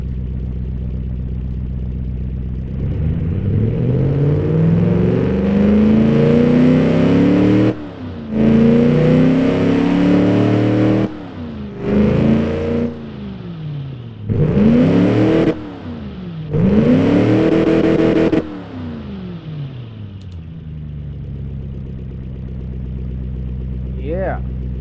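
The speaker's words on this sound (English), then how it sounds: "let's fire it up and let's hear our third carburetor chugging air and fuel into the engine" A Chrysler LA 318 V8 fitted with a third carburetor idles, then revs hard in several separate bursts, each rising and falling sharply, before settling back to a steady loud idle; nothing is said.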